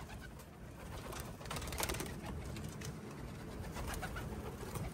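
Racing pigeons coo softly and continuously in the rain amid a busy, noisy outdoor background, several birds murmuring at once at a moderate distance.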